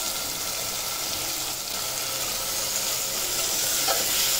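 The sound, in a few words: bottle gourd sautéing in oil with garlic-coconut-ginger paste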